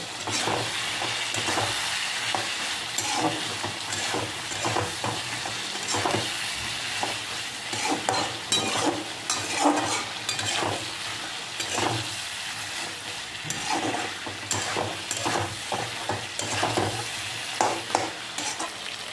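Chicken gizzards being stir-fried in a pan, with a steady bed of sizzling and frequent scraping and clattering stirring strokes running throughout, close and fairly loud, with no talking.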